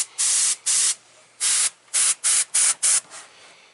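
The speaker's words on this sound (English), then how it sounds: "It's doing some weird funky spray thing." Airbrush spraying in short bursts, seven hissy blasts of varying length separated by brief pauses, close and fairly loud with no talking.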